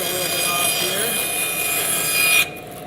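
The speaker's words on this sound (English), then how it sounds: "I'm going to cut just a little bit off here" A hand saw cuts a small piece off a wooden rack, a steady, close rasping stroke that runs continuously for over two seconds before stopping abruptly into quiet.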